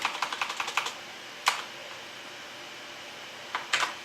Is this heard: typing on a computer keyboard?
yes